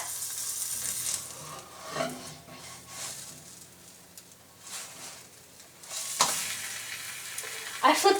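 A pancake fries in a hot pan, giving a faint, steady sizzle broken by a few louder scraping and stirring bursts, with a sharper clatter near the end.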